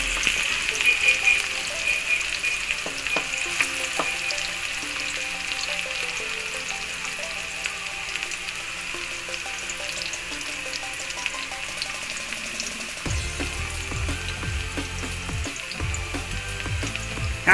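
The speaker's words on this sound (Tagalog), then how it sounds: "Ayan, igisa natin siya hanggang sa mag-brown siya." Onion sautéing until brown in a pan gives a constant, moderate frying hiss with faint stirring clicks, joined near the end by a lower rumbling layer.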